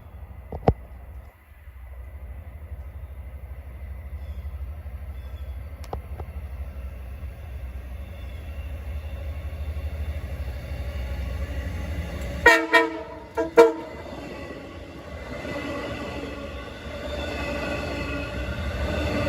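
A westbound Long Island Rail Road train on the Port Jefferson Branch passes the old Syosset Station site with a steady low rumble, then two loud horn blasts sound close by before the rolling noise continues.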